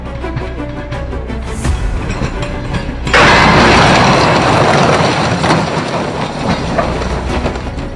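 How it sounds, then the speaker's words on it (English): Train in a controlled crash test in Russia: steady rolling rumble of railcars, then a sudden loud burst around three seconds in turning into sustained broadband crashing and grinding noise with clattering, with no voices. "controlled train crash tests were held casually to assess some of the train's features like emergency braking"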